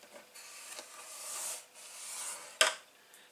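Cardstock is rubbed and scored with a scoring tool for a note card gift box, giving soft drawn-out scraping strokes close by that end in a sharp tap.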